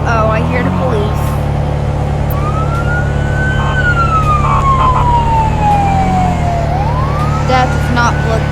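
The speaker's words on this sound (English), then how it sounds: "Uh-oh, I hear the police." A police siren wailing in a long rising and falling sweep above a loud, steady vehicle engine rumble, with a voice talking over it.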